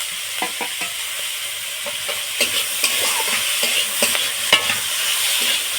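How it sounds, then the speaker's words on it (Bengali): Vegetables with chopped tomato and salt being stirred and fried in a pan, a soft continuous sizzle broken by sharp spatula scrapes and taps at irregular intervals, no talking. "কয়েক মিনিট সবজিটা এইভাবে নেড়ে দিচ্ছি। সবজিগুলো ভাজা ভাজা করে নিয়েছি।"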